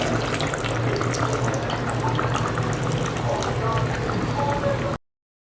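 Tamarind water poured into a cooking pot for Amman kuzh pooja cooking, a steady liquid pouring and splashing that runs continuously for about five seconds, then cuts off.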